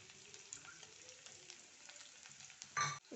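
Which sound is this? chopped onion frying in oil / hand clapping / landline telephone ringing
chopped onion frying in oil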